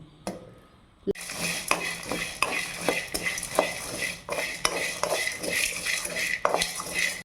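Whole spices being dry roasted for sambar powder rattle and scrape in a pan as a spoon stirs them, a repeated close clinking and scraping over a faint sizzle.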